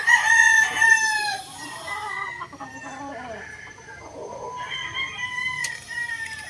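Gamecock stags crow and cluck nearby, with a loud crow at the start followed by softer overlapping clucks and more crowing, several birds calling in turn.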